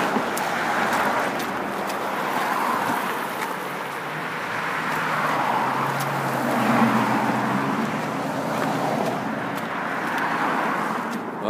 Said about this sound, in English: Wow, lots of traffic.